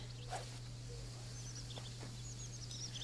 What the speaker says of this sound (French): mais on a l'oiseau. Mésange huppé.